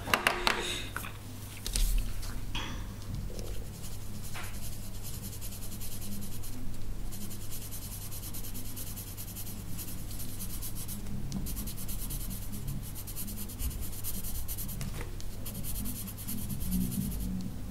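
A light green colored pencil rubs across paper in an Outlander colouring book, giving a steady, close scratchy scribble that goes on without a break, with a few louder taps near the start.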